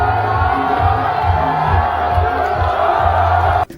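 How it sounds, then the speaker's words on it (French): A large stadium crowd at an inauguration event cheers and applauds loudly and steadily, a dense continuous roar of voices that cuts off abruptly near the end. "Aimé Boji fait le tour du stade sous des applaudissements du public"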